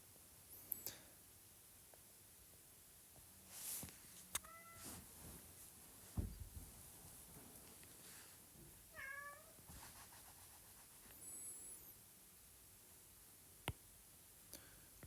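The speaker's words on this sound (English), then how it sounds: "my cat's meowing in the background" A cat meowing softly indoors a few times, faint and somewhat distant, amid scattered light clicks and ticks.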